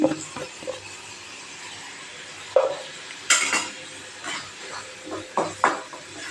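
Sautéing in oil with turmeric powder for a quick kurma: light pan scrapes and utensil knocks against cookware over a faint sizzle, a few louder stirring strokes at uneven intervals, close by.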